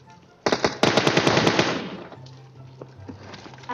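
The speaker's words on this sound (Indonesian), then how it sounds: "Dia nembakin." Rapid automatic gunfire in the battle game PUBG Mobile, a loud burst of about a dozen close shots fired in quick succession, then fading into quieter game ambience with a few faint distant pops.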